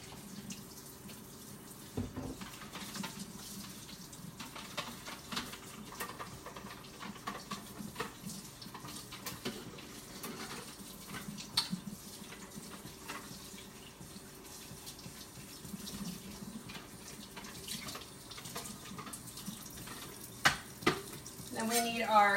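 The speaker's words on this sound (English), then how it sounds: "I'm just gonna wash my hands up real quick." Water runs from a kitchen tap as hands are washed, a steady faint splashing hiss that continues throughout, with a few louder clatters near the end.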